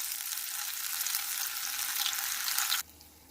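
Paneer pakora frying in oil over low to medium flame, giving a steady, close hiss of bubbling oil that runs without a break and then suddenly cuts off near the end.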